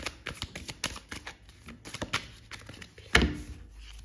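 Tarot cards being shuffled by hand, with a rapid run of crisp papery riffles and flicks close up, then one sharper slap near the end, with no talking.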